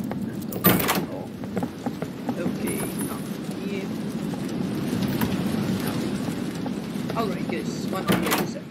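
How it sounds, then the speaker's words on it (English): New door-opening effect from the updated Roblox horror game DOORS: a sharp creak-and-thud near the start and again near the end, over a steady game ambience with a voice talking throughout. "Doors is now updated, so new door opening sound."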